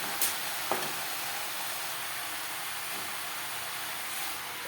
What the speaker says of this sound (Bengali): লবণ হলুদ লাউর সাথে বেশ ভালো করে মিক্স করে দেবো